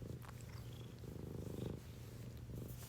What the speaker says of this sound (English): he's purring. Can you guys hear him?